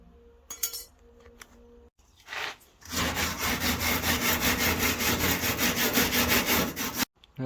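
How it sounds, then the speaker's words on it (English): An angle grinder strips paint from the metal panel of a MK1 Caddy wheel arch under repair, a steady, loud abrasive grinding lasting about four seconds after a few brief scrapes and knocks. "run the angle grinder just around here, take the paint off the back"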